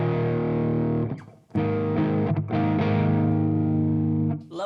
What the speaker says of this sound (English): Well, let's turn it on.